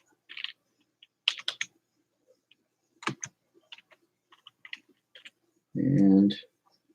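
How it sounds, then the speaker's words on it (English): Someone types on a computer keyboard indoors in a quiet room, with scattered clicks and short runs of keystrokes and a brief voice near the end. "I'm typing something on the computer"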